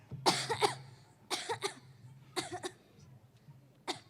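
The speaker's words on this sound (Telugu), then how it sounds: "ఒక వారం నుంచి దగ్గు బాగా వస్తుంది డాక్టర్ గారు, అస్సలు ఆగడం లేదు" Four separate bursts of harsh coughing, spaced about a second apart and close to the microphone, with quiet gaps between them and no speech.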